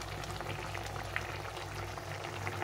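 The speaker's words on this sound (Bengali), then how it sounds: "ডিমটা দিয়ে একটু ফুটিয়ে নিব" Egg curry gravy boils in a pan on the stove, a soft, steady bubbling and simmering hiss that runs on without a break, close but quiet.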